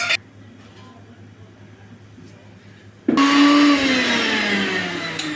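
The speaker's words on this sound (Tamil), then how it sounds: "இப்போ மிக்சி ஜாரில் போட்டு அரைக்கிறோம்" A kitchen mixer grinder whirs into a loud, steady high-pitched grind as roasted coriander spins in the mixer jar, starting abruptly after a quiet pause and running on close by.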